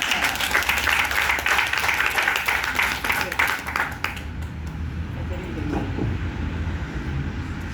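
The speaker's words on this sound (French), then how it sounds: "Applaudissements." An audience at a training session on the Legion of Mary promise claps together for about four seconds, the applause fading into quieter room noise with faint voices.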